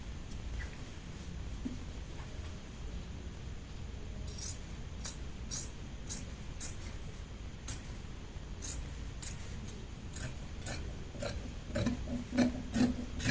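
Scissors trimming striped fabric for a shirt dress, a steady sequence of crisp, close snips that grows quicker and more regular toward the end over faint room noise.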